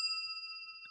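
A drinking glass is struck with a finger ring and rings like a bell, a single clear, sustained chime that hangs and slowly fades, close and fairly quiet with no voices.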